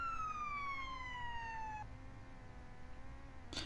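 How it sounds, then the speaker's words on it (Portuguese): A police or ambulance siren wailing with a falling tone in the video game Roblox, steady and moderately loud, with no talking. "Esse barulho de polícia. Ambulância, acho."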